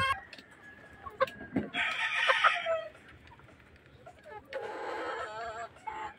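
A rooster, a fighting-cock broodcock, crows twice in bursts and clucks between them, fairly faint and close, with some quiet background noise.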